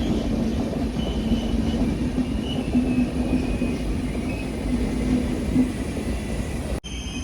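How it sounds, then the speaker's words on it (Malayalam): An Alappuzha–Dhanbad express train rumbles past on the Ernakulam–Thrissur route in Kerala at a steady roar, wheels droning on the rails with a faint whine above, continuous for several seconds, then briefly cutting out. "ആലപ്പുഴ ധൻബാദ് പോകുന്ന എക്സ്പ്രസ് ആണ്."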